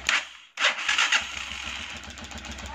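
A Honda TMX Alpha 125 motorcycle engine starts after a brief pause, catching quickly and settling into a steady, close, loud idle with an even rhythmic putter.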